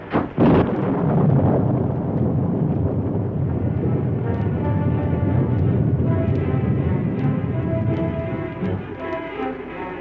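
A thunderstorm sound effect for a radio drama: an opening thunderclap gives way to a sustained, heavy rumbling roar of storm and rain that carries loud and steady throughout, with no voices.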